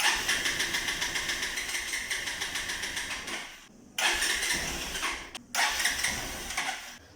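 A Pulsar 220 motorcycle with starting trouble after sitting for months, its starter cranking in rapid rhythmic bursts that whir on for several seconds, pause briefly, then crank again without catching.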